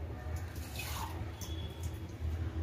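Half a glass of water poured onto jaggery in a pan makes a quiet, short splash and trickle, faint and close, with some low background rumble.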